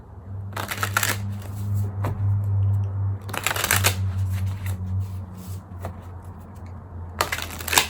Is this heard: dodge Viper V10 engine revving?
no